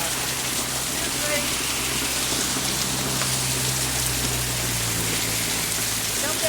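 Hail and heavy rain pour down during a Florida storm, a dense, continuous hiss and patter with a low rumble of passing traffic underneath, steady and close throughout.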